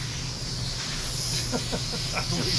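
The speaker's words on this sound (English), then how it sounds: "Yeah, this regulator is bad." A bad regulator on a DeVilbiss FLG4 paint gun leaks air in a steady, close hiss that carries throughout, with faint knocks and handling sounds near the end.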